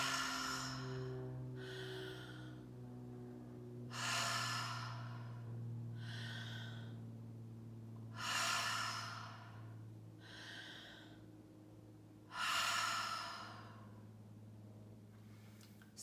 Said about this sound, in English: Deep inhale, free exhale.